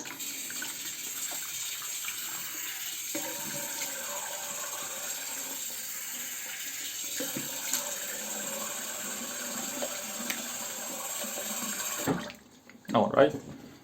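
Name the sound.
water running while rinsing after a shave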